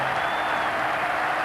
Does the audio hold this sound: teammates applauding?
yes